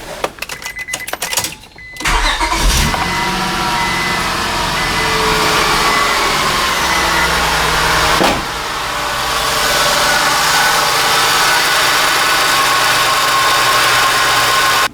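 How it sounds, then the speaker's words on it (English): A 1998-2002 Honda Accord V6 engine starts with a short clattering crank, then settles into a steady, loud idle that hums on evenly. "I'm gonna have to start the engine for 30 seconds"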